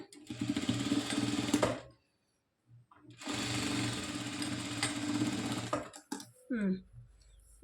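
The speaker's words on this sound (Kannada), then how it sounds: "ಮತ್ತೆ ಇನ್ನೊಂದು ಸ್ಟಿಚಿಂಗ್ ಅನ್ನೋದನ್ನ ಕೊಡ್ತಿದ್ದೀನಿ" A sewing machine stitches blouse fabric in two loud, fast bursts separated by a pause, followed by a few short clicks and handling noises.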